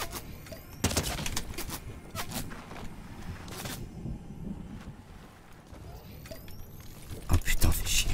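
Gunfire from a weapon in the game Fortnite: scattered sharp shot bursts, including a loud cluster near the end, mixed with wind-like game ambience and a player talking.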